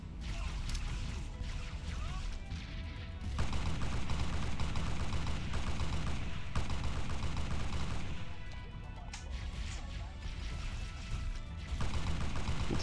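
A weapon fires repeatedly in the Halo SPV3 video game, with dense bursts of shots and mechanical clatter running throughout amid a busy, loud battle mix.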